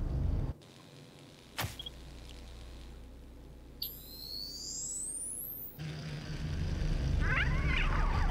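A cat meows in the video game Stray, one brief wavering call near the end, amid a low ambient game hum and a whirring electronic sweep.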